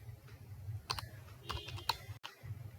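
A computer keyboard clicks as a SQL command is typed, with a few soft, irregular keystrokes and small clusters of taps, faint and close, and no talking.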